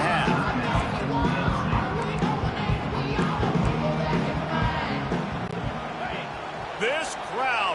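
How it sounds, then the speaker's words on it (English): A packed football stadium crowd roars and cheers loudly and continuously, with an announcer's voice running over the din. "This crowd, full throat, splitting the eardrums"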